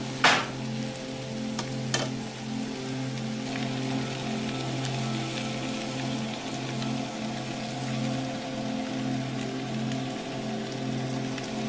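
Already-cooked meat warming through in a hot pan gives a steady, moderate sizzle and crackle that runs unbroken from start to finish over a low background hum, with a couple of sharper pops near the beginning.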